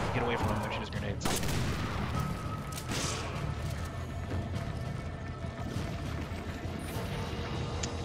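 Resident Evil 5 gunfire rattles through a chaotic fight, several sharp shots and cracks over a dense, noisy combat bed, loud and close throughout.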